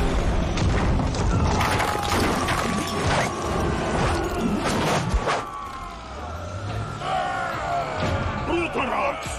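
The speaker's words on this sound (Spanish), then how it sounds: "Hubo otra explosión en el camino" Explosions and crashing blasts in the animated series Hot Wheels Battle Force 5, loud and dense at the start, then fading into rumbling with vehicle and siren-like tones, with voices talking over parts.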